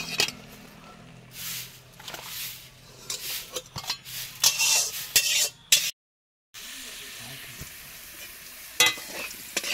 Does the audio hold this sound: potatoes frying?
yes